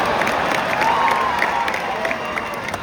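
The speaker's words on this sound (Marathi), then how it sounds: "मित्रांनो आता हळूहळू गर्दी होते. वानखेडेमध्ये पब्लिक यायला जमा व्हायला सुरुवात झालेली आहे." A crowd gathers in the stands at Wankhede Stadium in Mumbai for a T20 final cricket match, making a steady, distant roar of many voices with scattered shouts.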